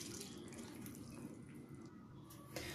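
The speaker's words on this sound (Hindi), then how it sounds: "सबसे पहले हम इस पोहे को पानी में हल्का सा धो लेंगे और फिर इसको छन्नी में फिल्टर कर लेंगे" Poha being rinsed in water and drained through a strainer, a steady, soft wash of running and splashing water that stays fairly quiet and even throughout, with no talk.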